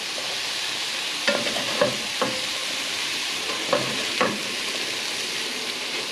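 Rice with soy sauce and chicken stock is stirred in a hot pan, a soft steady sizzle broken by a handful of brief scraping strokes from the utensil, fairly quiet and with no talk.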